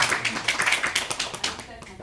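Congregation at a Korean Presbyterian church Sunday service gives a big round of applause while standing, a dense, steady clapping that stays loud throughout and fades slightly at the end.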